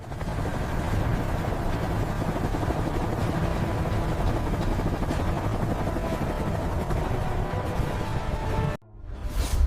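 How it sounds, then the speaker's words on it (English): A CH-47F Chinook tandem-rotor heavy-lift helicopter roars steadily with a dense, thudding rotor and engine drone, loud and continuous before cutting off abruptly near the end. "the Chinook continues its mission, hauling the weight of the world on its twin rotors"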